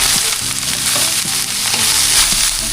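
Meat and liver innards fry in oil in a large pan, a loud continuous sizzle with crackling and occasional stirring clatter, close up and without talk.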